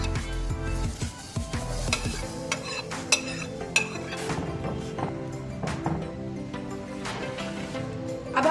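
Shredded chicken tipped into a pot of hot and sour soup and stirred, giving repeated close utensil scrapes and clinks against the pot over a steady simmering hiss, with no talking.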